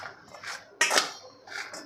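Raw mango pieces are tossed with homemade turmeric in a bowl for kairi pickle, making soft scraping and one sharper clatter of pieces and spoon against the bowl, close and fairly quiet.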